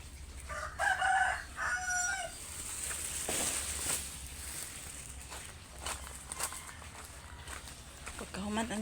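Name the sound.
chickens and rooster crowing at feeding time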